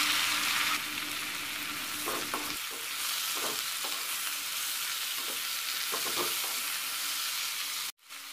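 Onions and tomatoes frying for onion chutney, with a soft steady sizzle and several spatula stirs and scrapes against the pan, ending abruptly in a short clatter and silence.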